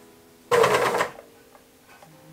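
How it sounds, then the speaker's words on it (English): A sewing machine runs a single brief, fast burst of stitching through four layers of fabric, close and clear, then stops, leaving quiet. "I'm sewing 4 layers together here."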